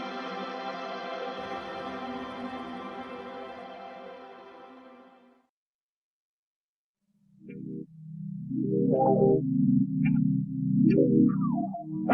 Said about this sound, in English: what are you hearing right now is music generated from brain signals